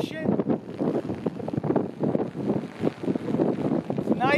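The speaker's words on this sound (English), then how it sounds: "Nice and loud, the way I like kites. Nice and windy. Nice and, like a sound of a motor." A 102-inch dual line stunt kite roars through strong wind in a series of loud, pulsing rushes, each surge rising and falling in quick succession, with gusty wind buffeting the microphone throughout.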